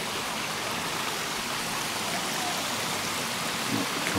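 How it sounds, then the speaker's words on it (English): A little creek in the Blue Mountains of New South Wales, Australia, gives a steady, even rush of flowing water close by, with no talk. "it's this little creek"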